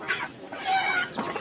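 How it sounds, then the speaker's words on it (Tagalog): Chickens on a farm cluck in short, clear calls from close by, several bursts spread across a brief moment with quiet gaps between them and no talk. "Yan yung mga manok ni tatay."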